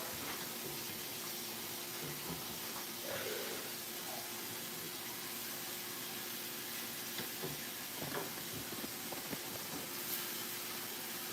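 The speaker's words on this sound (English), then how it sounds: "So everything's just gonna be sauteed until it gets soft." Vegetables sautéing in a pot for Jamaican brown stew shrimp: a faint, steady sizzling hiss that stays even throughout, with a few soft clinks.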